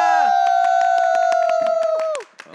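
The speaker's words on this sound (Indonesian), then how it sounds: "MPL Arena, mana tepuk tangannya?" A large crowd in the MPL Arena at a Mobile Legends esports match claps and cheers in a rhythmic burst, with a sustained tone over it, before the applause cuts off abruptly near the end.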